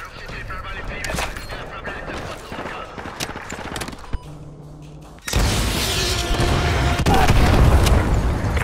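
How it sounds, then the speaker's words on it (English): AGM missile strikes in Call of Duty Modern Warfare 2 Remastered land as a heavy, sustained blast and rumble that hits abruptly partway through and stays loud to the end, after quieter battlefield noise. "AGM missiles online."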